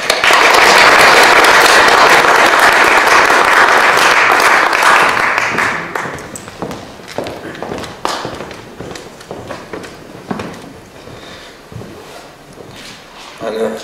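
An audience at an evening lecture applauds to welcome the speaker with a dense, loud burst of clapping lasting several seconds. It then thins out into scattered, fading claps and shuffling.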